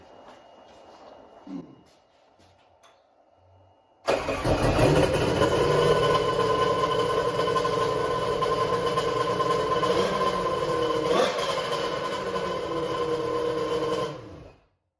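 After a few seconds of quiet, a Triple Swap X2 engine starts and runs steadily through its exhaust for about ten seconds, a loud, close, even drone that then cuts off abruptly.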